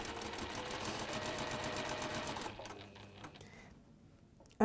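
A sewing machine runs fast, chain stitching one piece of fabric after another in a steady mechanical whir. The whir fades to quieter intermittent clicks partway through and ends with a sharp knock.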